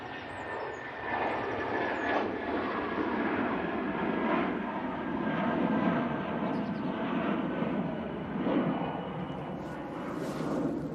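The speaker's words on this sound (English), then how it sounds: "British Airways, now on the roll." A British Airways jet airliner at Manchester Airport roars through its takeoff roll, a steady, loud, broadband engine rumble and hiss holding for the whole stretch with no voices over it.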